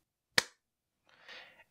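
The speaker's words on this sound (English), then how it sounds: "So if I do a clap right now," A single sharp hand clap, close and crisp, ringing briefly in a quiet room, followed by a faint soft rustle.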